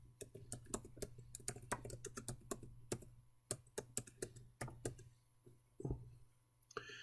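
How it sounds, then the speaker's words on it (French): Keystrokes on a computer keyboard while text is typed into a PowerPoint table cell, a close, irregular run of crisp clicks with short pauses, over a low steady hum and no voice. "Je vais taper le texte Circuit organisé."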